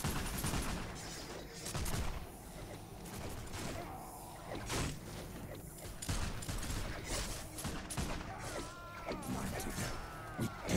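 Handgunner volleys in the video game Warhammer Mark of Chaos: dense crackling fusillades and scattered gunshots with mechanical clanks and whooshes from a battle, someone talking over them throughout.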